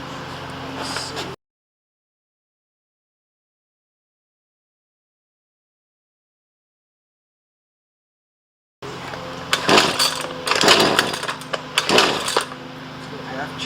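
A Husqvarna 128LD string trimmer engine that won't rev up all the way, bogging down: a short close burst of engine noise, a long dead gap, then loud uneven revving with repeated surges and dips.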